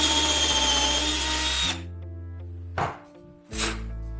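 Power drill with a depth stop made from a cut hammer-in anchor on the bit, one long loud whine as it bores, then two short bursts after it stops, no voices.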